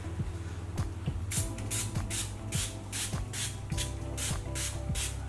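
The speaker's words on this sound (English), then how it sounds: "So I'm going to spray the conditioning mist." A spray bottle of hair conditioning mist is pumped about ten times in quick succession, each short hissing burst close and crisp over a faint steady hum.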